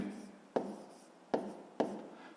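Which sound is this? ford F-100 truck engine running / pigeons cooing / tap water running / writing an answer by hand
writing an answer by hand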